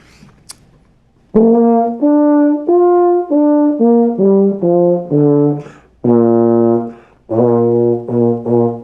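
A clean, sustained brass tone plays a series of held notes, each starting crisply and ringing steadily, with a short pause between phrases; no voices.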